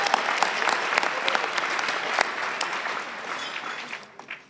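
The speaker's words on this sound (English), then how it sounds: "big applause to my colleagues at ASU" Audience applause at a summit closing dinner celebration: sustained dense clapping from a crowd, fairly loud and steady, thinning and fading out near the end.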